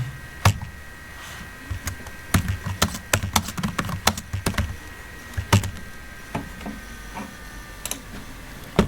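Keys clatter on a computer keyboard as a line of C code is typed, a close run of sharp, irregular taps in quick bursts with short pauses and no talk.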